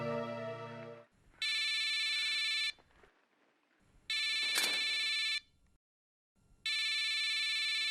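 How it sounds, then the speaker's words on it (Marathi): A telephone rings in repeated electronic bursts of about a second and a half, separated by short pauses, loud and near in an indoor scene with no talking. "त्यांचाच फोन आहे."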